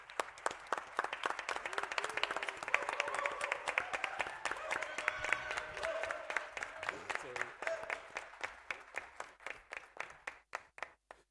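Sustained audience applause after a tertiary debating challenge, dense clapping from a crowd with voices mixed in, thinning to scattered individual claps toward the end.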